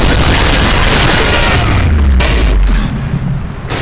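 A Predator missile detonates in Call of Duty: Modern Warfare 3, a loud, close, deep boom with a rumbling low tail that swells midway and then fades over a few seconds.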